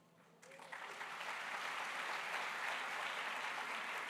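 Applause for President Cyril Ramaphosa at a SADC Summit public lecture swells in quickly after a near-silent start, then continues as a steady, faint, distant wash of clapping from a large audience.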